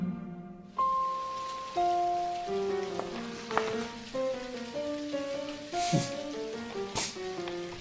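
Steady rain hisses in the video game Dinkum, a soft wash running under a plucked, bell-like game melody for the whole stretch.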